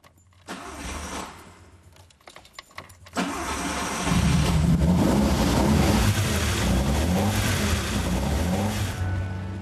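A vintage Fiat Dino engine cranks and stutters, then catches and settles into a loud, steady running rumble close by.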